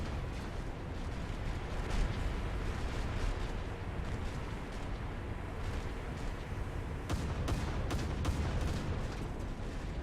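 Ship machine guns on a destroyer in War Thunder naval battles fire automatically in a dense, continuous rattling roar, loud and unbroken for the full ten seconds with sharper bursts toward the end.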